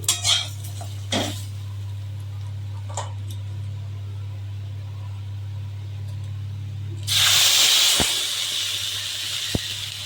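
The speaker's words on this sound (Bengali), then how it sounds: "এবার জল দিয়ে দিচ্ছি।" Water poured into a hot pan of fried mango pieces: after a quiet stretch with a low hum and light clinks, a sudden loud, sustained hiss of steam bursts up near the end.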